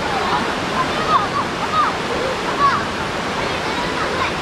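Cold water from an old river rushes and splashes steadily nearby, a continuous broad wash that sounds like a small waterfall, with no talk over it.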